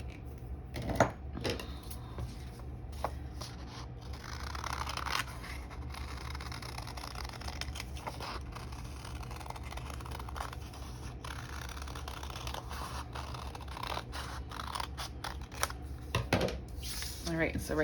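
Scissors cutting a folded paper heart for an Earth Day craft, with repeated close snips and paper rustling spread unevenly across the stretch and talk in the background.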